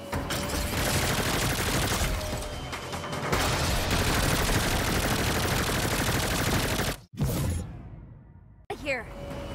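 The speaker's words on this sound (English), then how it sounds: "They're shooting the RV." Automatic gunfire bursts at an RV during a Saints Row chase, dense and loud for about seven seconds alongside whooshing vehicle noise, then cutting off into brief quieter swishes.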